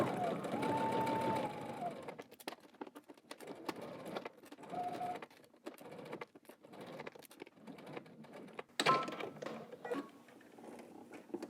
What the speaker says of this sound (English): you're going to top stitch it 1/4 inch away